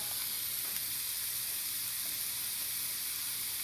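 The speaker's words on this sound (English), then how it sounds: "I am going to add my meat to it" Turkey sausage sizzling in a skillet, a steady bright frying hiss that stays even and moderately quiet throughout, with no voices.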